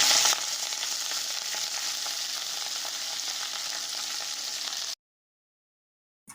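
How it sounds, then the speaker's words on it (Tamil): Ponnanganni greens dropped into a hot pan, a sharp burst followed by a steady loud sizzle for about five seconds before cutting to silence, with no voices. "அந்த கீரையை அதை போட்டுடலாம்"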